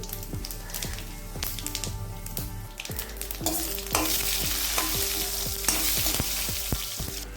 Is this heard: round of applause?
no